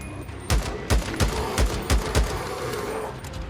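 Rapid gunfire from the video game Days Gone, a run of about eight sharp, loud shots at a steady rhythm, then fading to a quieter background.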